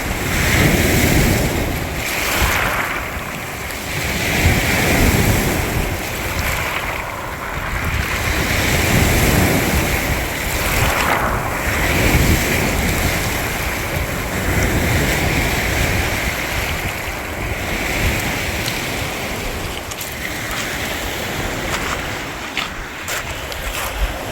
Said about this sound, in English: I just love that sound, the water running over the rocks.